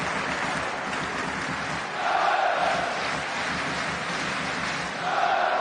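Football stadium crowd roars in reaction to a shot in an English league match, a broad sustained wash of noise that swells twice.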